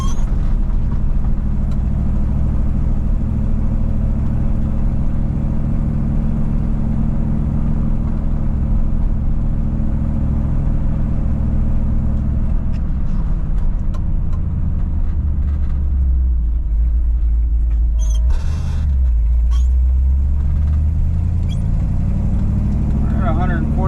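Bullnose Ford F150 pickup with a worn clutch idling as the clutch pedal is pressed, a steady low engine rumble throughout with someone talking over it and a few brief clunks near the end.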